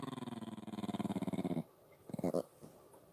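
A dog growls in a long, rumbling pulsed run close to the microphone, then pauses before a couple of shorter growling bursts and a faint whimper-like tail.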